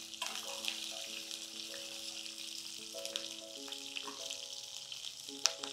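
Large pieces of green chilli fry in oil in a pan for Rayalaseema uggani, a quiet, steady sizzle with some faint tonal background sounds and no talk.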